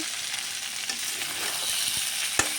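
Chicken pieces fry in oil with garam masala, giving a steady close sizzle and crackle, with occasional stirring scrapes and one sharp clink near the end.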